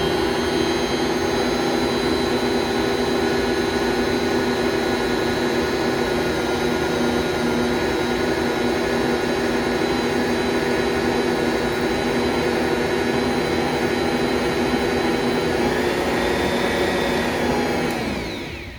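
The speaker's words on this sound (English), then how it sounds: "And then we're going to turn our mixer and just make sure all of our dry ingredients are incorporated together." A stand mixer churns freshly milled whole grain pizza dough, a loud, constant motor whir close by that runs uninterrupted and then winds down and stops at the very end; no voices.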